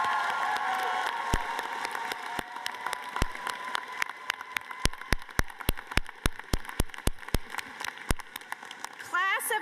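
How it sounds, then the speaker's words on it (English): Graduates and guests at a 2025 university graduation ceremony applauding, a dense wash of clapping with louder individual claps standing out, and a voice speaking briefly over it. "please, let's give a round of applause to those who helped you get here"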